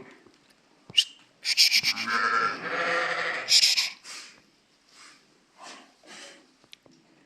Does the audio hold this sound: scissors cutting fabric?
no